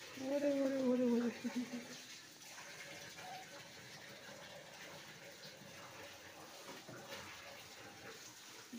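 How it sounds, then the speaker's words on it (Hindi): Water runs steadily from a tap as a low continuous gush, while people talk over it at the start and a faint background hum continues. "पानी बंद कर ले भाई, अरे पानी बंद कर ले, कहाँ सोच रहे हो टुनटुन"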